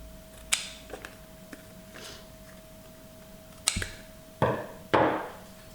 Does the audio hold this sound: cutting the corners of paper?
yes